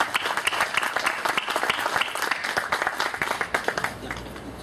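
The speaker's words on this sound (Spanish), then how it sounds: "Recibamos con un fuerte aplauso al economista Jorge Manco Saconetti, por favor." An audience applauds to welcome an economist to the stage at a forum of an economists' association, a dense, steady clatter of many hands that holds even for several seconds before tapering slightly.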